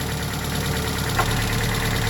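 A warm Chevrolet HHR with a 2.2 or 2.4 Ecotec engine idles steadily up close, giving an even, unbroken hum with a faint whine and no other sounds over it.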